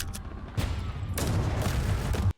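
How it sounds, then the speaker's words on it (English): Loud, sustained rumbling blasts with gunfire-like bursts in a film, a short burst first, then a heavy continuous barrage of explosions that cuts off abruptly. "Explosions, explosions. I love it."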